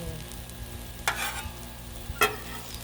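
Mushrooms cooking on a griddle give a low steady sizzle, broken by two sharp scraping stirs from a spatula, one near the middle and one near the end, close and with no talking.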